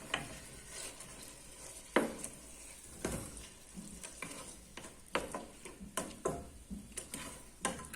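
Ingredients and spices frying in a pan while being stirred, with a quiet steady sizzle and intermittent light scrapes and clicks of a utensil, fairly faint throughout.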